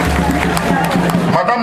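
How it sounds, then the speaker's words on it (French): Audience applause at a mayor's investiture ceremony, a brief burst of crowd clapping under murmuring voices and hubbub. "On l'applaudit très fort également."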